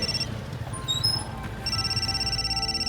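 A telephone rings with a steady, electronic, high-pitched trill, heard briefly at the start and then ringing continuously through the second half over a low background murmur.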